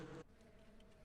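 A low, steady insect buzz of bees in the Ranch Simulator video game, very faint and thin, follows a brief louder tone at the start and has no talking.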